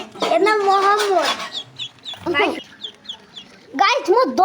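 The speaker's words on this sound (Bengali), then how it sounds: "গাইস মোট 10টা হাঁস এখানে আছে দেখুন।" A group of ten ducklings gives high, thin peeping chirps in short bursts, close by, with a person talking over and between the calls.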